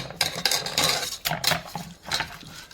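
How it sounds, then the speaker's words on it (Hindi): Fish being mixed with oil and salt into a marinade for fish masala, with quick clinking and scraping of a utensil against a bowl in short uneven bursts, close and moderately quiet. "इसको डाल के अच्छी तरह से मिक्स करके"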